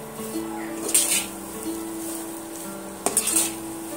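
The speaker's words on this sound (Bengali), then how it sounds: "এবার আমি এইভাবে আরো 5 মিনিটের মতন তো এইভাবে নেড়েচেড়ে তৈরি করে নেব" Semolina halwa being stirred in ghee in a pan, with soft scraping strokes, a faint sizzle and a couple of sharper utensil clinks against the pan, fairly quiet throughout.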